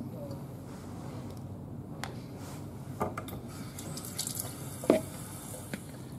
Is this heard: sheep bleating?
no